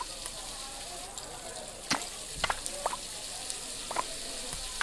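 Food sizzles in a pan in the cooking game Overcooked, a steady quiet frying hiss with scattered clicks and taps from kitchen actions on top.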